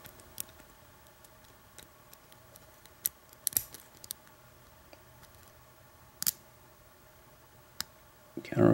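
Scattered light metallic clicks and ticks from picking an Abus 83 padlock with unusual bitting, faint and sparse over a quiet background, with a louder rattle at the very end.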